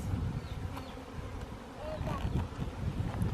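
Honeybees in a nuc box drone in a low, constant buzz heard up close, with faint higher whines of individual bees passing near.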